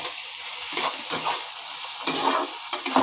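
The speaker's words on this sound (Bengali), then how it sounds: "এইবার আমি ভালো করে এগুলোকে ভেজে নেব।" Chopped coriander and vegetables sizzle and fry in a pan for pasta, a steady close hiss broken by several louder bursts as they are stirred.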